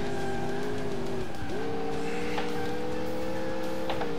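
An all-wheel-drive car drifts in the video game Alarm für Cobra 11, its engine note droning steadily, dipping briefly and then climbing again as the tires squeal through the slide, loud and continuous with no talking.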